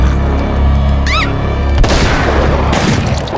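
A gunshot in an animated comedy show lands as a sharp, loud boom about midway, cutting over continuous music and sound effects with a brief whistling tone just before it.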